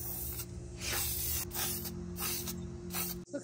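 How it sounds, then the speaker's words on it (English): Gilded brass spray paint hisses from an aerosol can in several steady bursts, close and fairly loud, with short pauses between passes and a faint low hum underneath. "We just came from the store, picked up this spray paint."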